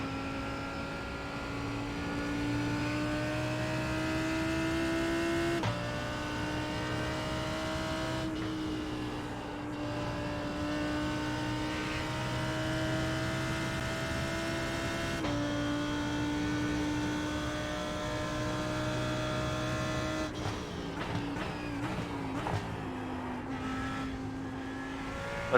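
A GT3 race car engine drones steadily around the track in an IMSA racing video game, a loud continuous tone with small pitch shifts and a few shifts and lifts along the way.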